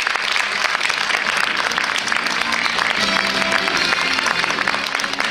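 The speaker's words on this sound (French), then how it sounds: "applaudissements s'il vous plaît." Audience applause for Miss France 2015 Camille Serre at a regional Miss pageant preselection in Parthenay: a dense, steady wash of many hands clapping in a hall, loud and sustained throughout with no pauses.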